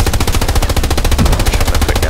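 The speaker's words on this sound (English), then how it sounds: "I think that MG fire is from a tank." Tank machine-gun fire in Hell Let Loose, heard as a loud, continuous rapid burst of evenly spaced shots close by.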